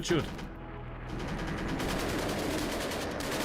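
Rapid bursts of gunfire during a RimWorld colony fight, a dense, sustained crackle of shots running through the whole moment.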